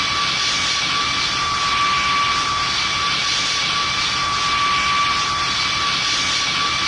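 An airplane comes in for a hard landing in a crosswind, its jet engines a steady loud roar with high whines held throughout, close and continuous.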